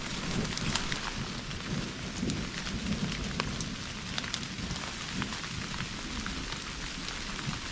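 Heavy rain pours steadily at a storm-soaked campsite, a dense, constant hiss with scattered sharper drop impacts and a low rumbling undertone, continuous for the whole stretch with no voices.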